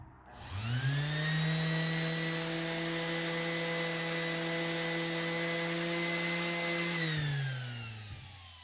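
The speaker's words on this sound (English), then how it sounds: "First step is to sand everything, and that's to rough up the paint" Power sander roughing up the paint on a steel door, whining up to speed, holding a loud steady drone for about six seconds, then winding down.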